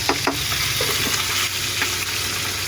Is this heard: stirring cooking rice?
yes